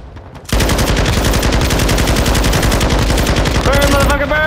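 Dense automatic gunfire in Call of Duty Warzone 2.0 erupts after a brief quiet lead-in and rattles on continuously at close range, with a few higher electronic game tones near the end.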